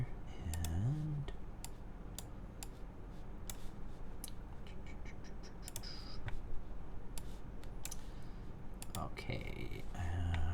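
A custom Kei R2 mechanical keyboard fitted with Gateron Black Ink switches is typed on, giving a steady run of sharp, close clicks and clacks, with someone talking over parts of it.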